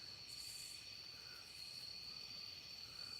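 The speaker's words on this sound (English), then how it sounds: "You hear all our crickets?" Steady chorus of crickets chirping continuously at a constant high pitch, a dense outdoor night background with no talk.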